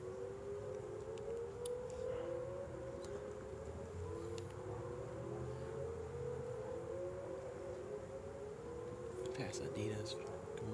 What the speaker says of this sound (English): today we're going to be hearing the siren test from two cities in this area at once